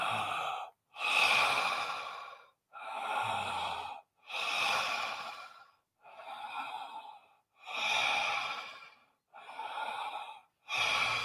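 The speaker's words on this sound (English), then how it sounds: "Ten more big breaths." Deep breathing exercise: slow, full breaths drawn and released in a steady rhythm, about six long airy inhale-exhale swells separated by short pauses, close and clear with no talking.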